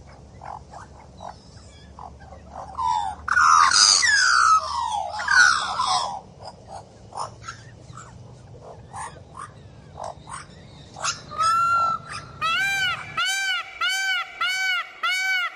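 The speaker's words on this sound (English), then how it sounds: "Magpie." A magpie gives harsh, rasping chatter in loud bursts, followed by a run of shorter, clearer repeated calls.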